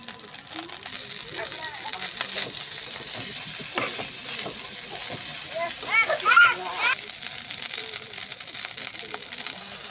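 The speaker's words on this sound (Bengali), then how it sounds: "আমি ডিম দিয়ে পেঁয়াজ দিয়ে শুধু করে ম্যাগি মশলা দিয়ে ভাতটা ভাজে নিয়েছি" Rice stir-fried with egg, onion and Maggi masala, a continuous close sizzle with scraping stirring strokes, while voices, including a child's, talk over it.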